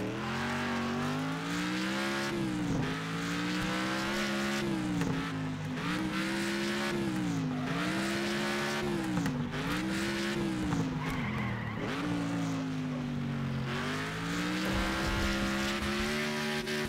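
A high-powered car in a racing video game slides over sand, its engine droning loudly and steadily with rising and falling revs and tire skids, heard alone without talk.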